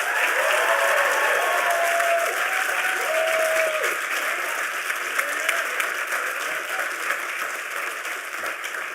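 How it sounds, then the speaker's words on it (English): An audience at a school prize day breaks into sustained applause and cheering for parents and families, dense clapping filling a large hall at a steady loud level and slowly tapering over several seconds. "give one more rousing cheer to your parents and family who are here"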